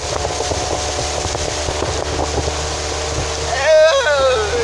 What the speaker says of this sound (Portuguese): Não tem força esse motor do teu barco.